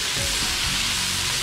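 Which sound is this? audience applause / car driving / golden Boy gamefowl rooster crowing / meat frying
meat frying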